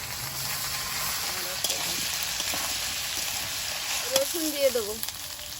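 Taro and ginger frying in hot oil in a home kitchen pan, a steady close sizzle with faint stirring clinks, while someone speaks briefly over it.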